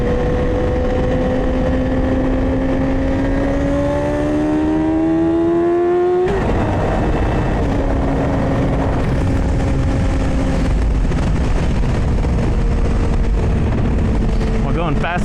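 A Yamaha R6 motorcycle engine hums while riding in the rain, its pitch rising as the bike pulls through a gear, dropping at a shift, then holding steady under wind and spray; a rider talks over it.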